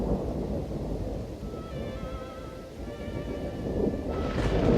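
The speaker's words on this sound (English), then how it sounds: "Lightning cracks across a dark sky, followed by a loud clap of thunder that rolls across the land." Thunder and steady rain storm for a radio drama, a continuous dense rumble of downpour with low rolling thunder, swelling louder near the end, no voices.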